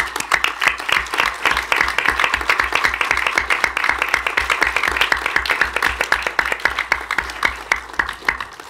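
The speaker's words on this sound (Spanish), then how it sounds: "pedir un aplauso para Berta Cáceres y despedirme" An audience at a talk breaks into sustained applause, many hands clapping densely and evenly for the whole stretch, loud and close with no break.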